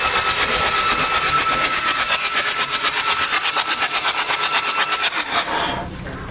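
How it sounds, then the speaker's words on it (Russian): A 4x4 off-road vehicle's diesel engine runs loud and close with a fast, even, pulsing clatter, then fades slightly at the end. "Как шикарно мотор работает."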